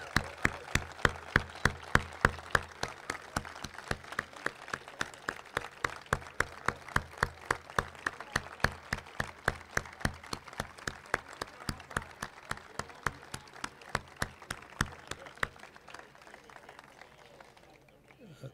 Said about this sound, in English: give a round of applause to thank